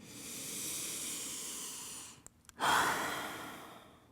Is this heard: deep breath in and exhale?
yes